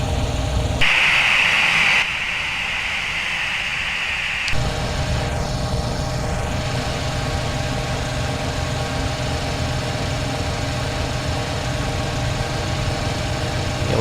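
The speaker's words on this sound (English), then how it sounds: "I'll wait for the left engine to spool up here." The left jet engine of a Boeing 737 in Flight Simulator X spools up, a steady broadband whine and rumble that holds level, with a brief high hissing tone near the start before settling into a continuous drone.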